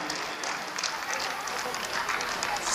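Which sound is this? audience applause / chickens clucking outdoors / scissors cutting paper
audience applause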